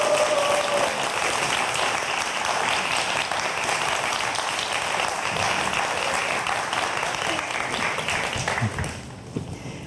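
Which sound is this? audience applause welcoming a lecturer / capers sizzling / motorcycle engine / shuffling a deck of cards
audience applause welcoming a lecturer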